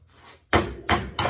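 Three sharp metallic taps from a hammer striking a furnace gas valve, close and crisp, each with a short ring-off after it.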